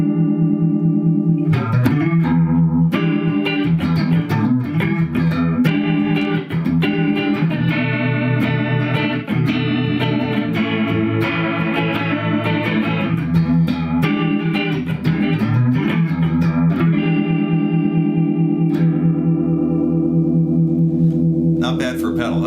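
A guitar played through a compact effects pedal weighing under two pounds that emulates a Leslie rotary speaker, giving loud, continuous swirling chords with a warbling, chorus-like shimmer for about twenty seconds.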